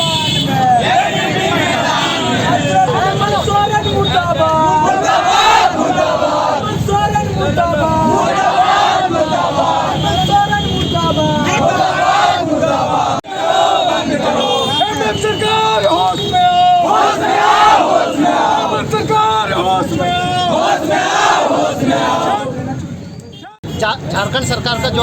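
Student protesters of the Akhil Bharatiya Vidyarthi Parishad at a street demonstration, loud crowd voices chanting slogans in repeated rhythmic bursts, with traffic noise around and a brief drop near the end.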